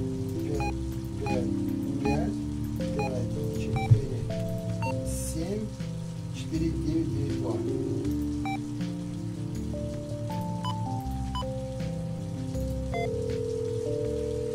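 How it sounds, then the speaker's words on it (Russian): A shower sprays with a constant watery hiss beneath soft background music in the Roblox game Warm Isolation, and a person speaks now and then. "Ой, я нашел, как включить душ."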